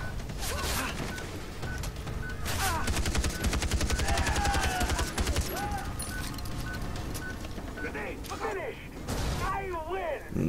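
Rapid machine gun turret fire in the Far Cry 3 video game, loud continuous bursts of automatic shots with explosions and mechanical clatter, mixed with other game sounds.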